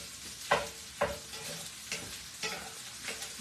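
Rice and vegetables stir-fried in an old flat-bottom wok, a steady sizzle broken by sharp, regular scrapes and clacks of a spatula roughly every half second, close and clear with no talking.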